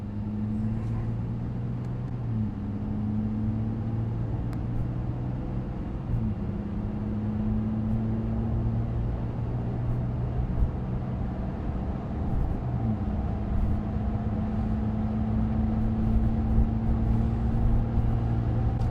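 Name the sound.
Ram 1500 RHO truck accelerating, high output Hurricane engine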